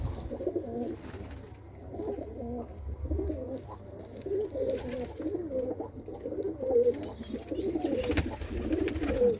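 Racing pigeons at a Gurdaspur loft coo repeatedly in rhythmic, throaty phrases, a chorus of nearby birds calling one after another over a steady murmur, with no speech.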